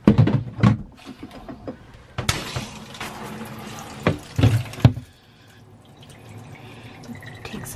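Tap water running inside an RV, splashing and dripping into a sink while it warms up, with a steady rushing flow that cuts off partway, leaving quieter room sound.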